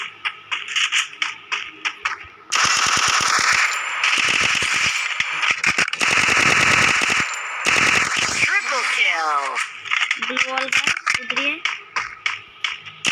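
Rapid automatic gunfire bursts from the Free Fire video game on the Purgatory map in Clash Squad mode, loud and sustained through the middle, with shorter shots before and after and a speaking voice in the game.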